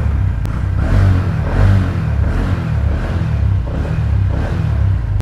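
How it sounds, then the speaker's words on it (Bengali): A Honda Hornet 125cc motorcycle engine runs loud and close, pulsing through a series of rhythmic revs over a steady throbbing idle, with no talking. "গাড়িটা একবার আমি স্টার্ট দিয়ে তোমাদেরকে ইঞ্জিন সাউন্ডটা শুনিয়ে"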